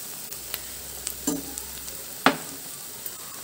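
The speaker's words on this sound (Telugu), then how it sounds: "చక్కెర వేసి సరదాగా మిక్స్ చేసుకుందాం" Sugar being stirred into carrot halwa in a pan, with a soft steady sizzle and a couple of distinct scraping stir strokes, close and fairly quiet, no talking.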